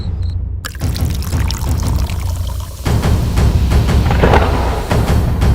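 Water pours steadily from a tap onto dishes being washed in a cartoon kitchen, a continuous loud splashing gush that starts abruptly after a brief quiet moment and keeps running to the end.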